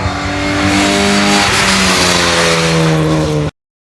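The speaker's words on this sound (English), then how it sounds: "This car actually runs a full race 1398cc engine." Race car with a full-race 1398cc engine and a lever-pump carburettor at a Curborough sprint, roaring loud and close at high revs with a slight pitch shift, cutting off abruptly after about three and a half seconds.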